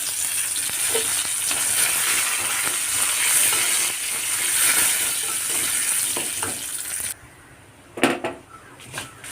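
Dried red chillies, curry leaves and urad dal frying in hot oil make a loud, continuous sizzle that suddenly drops off, then a few close clinks of a metal utensil against the pan.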